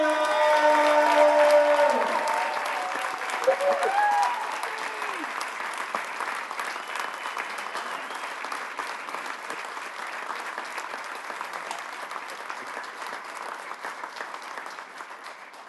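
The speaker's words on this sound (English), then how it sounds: "please give a huge round of applause" A crowd gives sustained applause for a Nashville SC Unified Team head coach, starting under a voice and then continuing as a steady, fairly distant clatter of many hands for over ten seconds.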